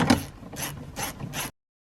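A ratchet wrench tightens small size 7 bolts on the cabinet panel of a 2013-2020 Ford Fusion, giving four quick, close bursts of clicking pawl spaced across a second and a half, then silence.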